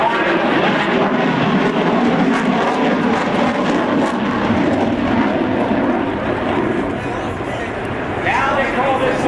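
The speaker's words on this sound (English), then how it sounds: "completing the square loop in the FA-18 Super Hornet." An F/A-18F Super Hornet jet flies a square loop at an air show open house, its engine roar loud and continuous throughout, with a slight swell and fade near the end.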